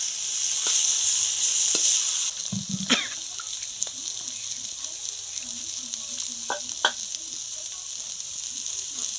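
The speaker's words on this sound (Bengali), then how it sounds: "ভাজা ভাজা করে নেব পেঁয়াজের সাথে" Banana flower frying in a pan with prawns and onion, a steady hiss that drops after a couple of seconds into softer sizzling, with scattered clicks and scraping stirs, fairly close and with no talk.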